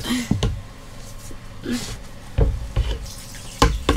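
Water running and splashing as it fills or flushes a motorhome waste water tank, with intermittent gurgles and knocks; a voice is faintly present at moments.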